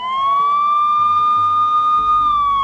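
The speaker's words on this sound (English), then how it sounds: "Sometimes these sirens seem to be turned on just to announce the presence of a supposed dignitary" Siren on a dignitary convoy vehicle in traffic, a loud, close electronic wail sweeping slowly upward and back down in one sustained cycle, with low road rumble beneath.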